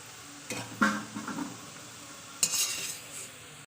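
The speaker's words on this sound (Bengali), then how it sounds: "আমি এটাকে এবার ঝাঁসির সাহায্যে ঝাঁসির সাহায্যে পরে তুলে নেব" A metal slotted spoon lifts fried carrots out of hot oil in a kadai while making fried rice. Scattered scraping clinks and clatters sound against the pan, with a faint sizzle between them.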